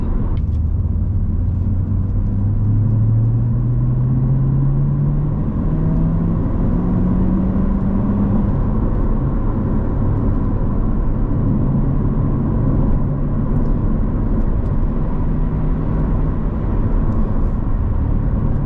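A manual Corvette C7 Z51 cruises on an open early-morning road, its engine a steady low rumble from inside the cabin, with one slow rising pitch sweep as it accelerates through a gear, no talking.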